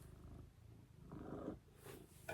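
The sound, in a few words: cat Murphy purring close to the camera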